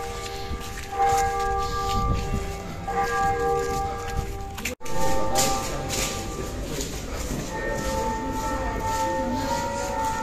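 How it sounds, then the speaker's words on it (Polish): The bells of St John's church ring in sustained, humming tones that repeat over several seconds, heard from some distance against outdoor background noise. "O, bije"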